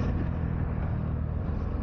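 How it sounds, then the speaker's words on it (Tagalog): Road traffic in Calatagan, Batangas is heard as a dense, steady low rumble of engines close by, an unbroken drone with no distinct passes or horns. "Traffic talaga."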